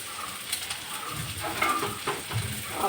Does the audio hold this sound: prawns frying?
yes